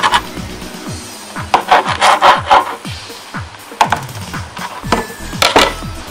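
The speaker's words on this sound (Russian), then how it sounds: "Режем большим ножом на полосочки." A large knife chops home-salted herring fillet into strips on a wooden board, giving a quick series of close, crisp thuds and scraping cuts in an uneven rhythm, with no voices.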